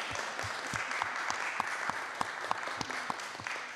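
A room of people at a district council meeting clapping steadily, a moderate crowd applauding continuously with some sharper individual claps standing out.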